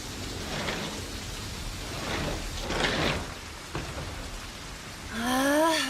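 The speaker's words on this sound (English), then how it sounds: "We'll never get any customers in this rain." Steady rain pours down with soft swelling rumbles, then a voice cuts in briefly at the end.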